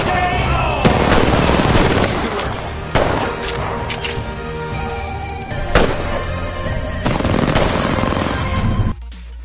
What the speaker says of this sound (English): You see what damage that shotgun did?